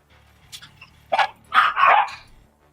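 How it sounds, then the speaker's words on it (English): Dogs barking at home as someone arrives at the door: a few faint yips, then a loud burst of barks and a longer run of close, rough barking, with no talk. "you hear my dogs barking"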